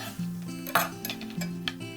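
Chopped green onion dropped into a microwave-safe mug with a spoon, a few light clinks and taps of metal on ceramic over a steady low hum, close by with no talk.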